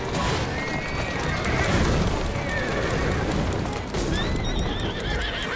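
Horses neigh and whinny repeatedly, loud and close, over rapid clip-clop hooves amid a busy street scene in the video game Assassin's Creed Syndicate, with dense continuous background noise throughout.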